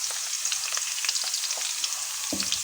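Chopped garlic and green chilies fry in hot oil, a close, bright crackling sizzle with soft stirring scrapes throughout, no voices.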